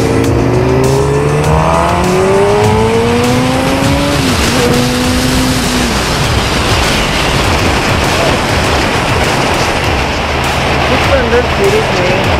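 A Suzuki GSX-R 600 motorcycle exhaust revs loudly up and down, with rising and falling engine tones early and a dense roaring rumble throughout, close by.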